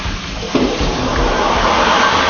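Water begins running onto a crystal cutting wheel in a glass-cutting shop, a steady splashing hiss that jumps in abruptly and then holds constant, fairly close and loud.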